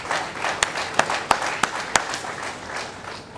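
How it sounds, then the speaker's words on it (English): Audience applause at a university chancellor's annual address, a dense, steady crowd clapping with several sharp individual claps standing out near the front and some voices underneath. "Also clap for your students who have contributed to your success. And finally, clap for the ideology of JLU"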